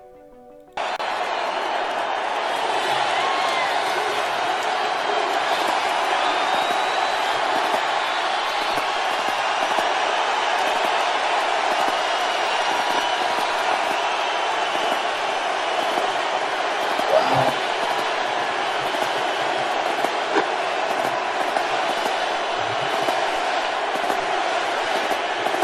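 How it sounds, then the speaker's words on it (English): A large arena crowd at a national championship football game cheers and roars steadily as Trump walks out before kickoff, a loud, continuous wash of voices that swells after a brief quiet opening. "He walked out before the game with a crowd cheering."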